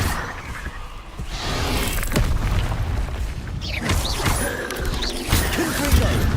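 Confringo spell blasts in Hogwarts Legacy, loud booming impacts with crashing debris and swooshing magic layered over a busy, continuous battle din.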